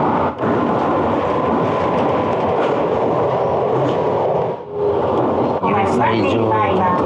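A local train departing Iyo-Miyoshi Station in Shikoku, Japan, runs steadily on its rails, a loud sustained rumble with rhythmic wheel clatter, while a voice speaks over it.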